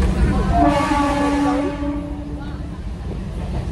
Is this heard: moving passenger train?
yes